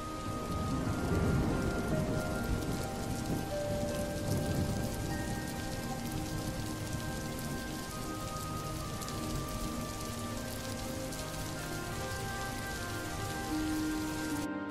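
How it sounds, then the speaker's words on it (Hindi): Heavy rain pours down steadily on a dark January night with thunder and lightning, a dense, loud hiss of drops drumming on surfaces without pause. "अंधेरी रात में कड़कती बिजली के साथ जोरदार बारिश हो गई।"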